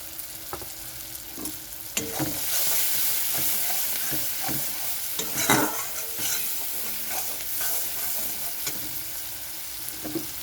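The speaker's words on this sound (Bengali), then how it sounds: "খুব ভালো করে কষাতে হবে, টমেটো যেন কাঁচা গন্ধ না থাকে" Tomatoes sizzle steadily in a hot frying pan while a spatula scrapes and stirs in repeated strokes, close up with no talking, cooked down for a tomato prawn dish.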